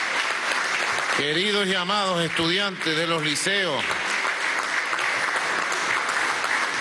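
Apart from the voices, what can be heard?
audience applause for students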